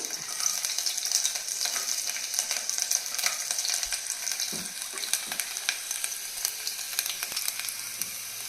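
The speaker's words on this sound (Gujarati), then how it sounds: "સૌ પહેલાં તેલ ગરમ થાય એટલે આપણે એમાં આદુ લસણની કટકી નાખીશું" Chopped ginger and garlic pieces frying in hot oil give a steady, close, bright sizzle that crackles on and off for several seconds, with a few faint clinks and no talking.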